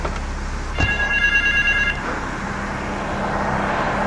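A telephone rings inside the Grand Theft Auto 3 video game, a bright electronic trill of about one second over steady traffic and engine rumble, with no talking.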